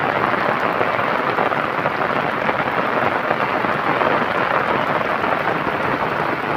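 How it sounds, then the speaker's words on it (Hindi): Heavy rain pours steadily during a flood in Cormons, Italy, a loud continuous hiss of downpour with no voices. "और ये देख सकते हैं आप कितनी शिद्दत की बारिश जारी है।"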